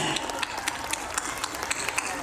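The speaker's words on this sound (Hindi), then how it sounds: "जोरदार ताली हो जाए।" A school audience claps at the opening of the annual function Rhythm at SS English School in Varanasi, a brisk crowd applause with sharp individual claps standing out over a busy hall background.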